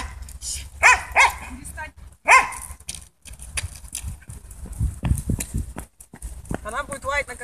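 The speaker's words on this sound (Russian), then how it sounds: "Она будет лаять на конкурентов." A dog barks a few times close by, sharp isolated yelps amid people talking and shuffling movement.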